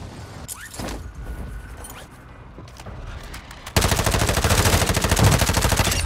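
Rapid automatic gunfire in the video game Call of Duty Warzone 2 Plunder mode, faint scattered shots at first, then a loud, fast, steady machine-gun burst lasting several seconds.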